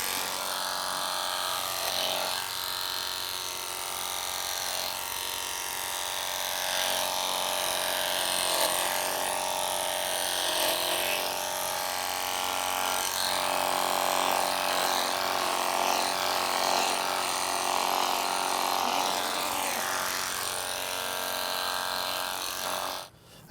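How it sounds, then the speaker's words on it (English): Electric clippers buzz continuously and loudly close by while a market goat is groomed, a steady mechanical drone that holds for over twenty seconds before cutting off abruptly at the end. "One of the worst things you can do is let the clippers run in open air."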